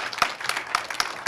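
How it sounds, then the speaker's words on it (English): A panel audience gives a brief, sparse round of applause, with a few distinct claps spread over about a second. It sounds thin and fairly quiet in the room. "let's give them a round of applause."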